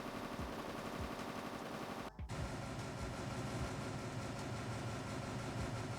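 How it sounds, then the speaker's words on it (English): In a video game, a bug makes a character's torch play another character's shotgun firing sound, heard as dense gunfire and mechanical noise over a steady rumble with a brief dropout midway, without speech. "Whenever you use Maverick's torch, it plays the sound of Ying's shotgun shooting."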